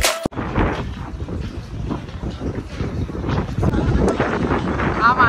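Wind blowing outdoors, roaring as strong, uneven gusts buffeting the microphone, loud and close, with a person talking over it.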